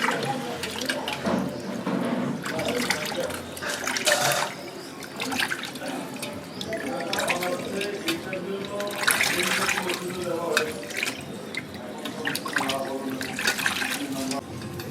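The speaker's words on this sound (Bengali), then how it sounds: "এবার মাছগুলো ধুয়ে নিচ্ছি ভালো করে" Cut pabda fish is rinsed under a running tap in a sink: a steady splash of water with shifting gushes and drips, close and fairly loud, with a voice talking over it.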